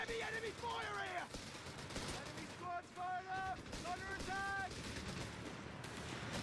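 An aircraft strafing run in a competitive video game match, heard as rapid bursts of gunfire and crackling impacts under a commentator's steady talk.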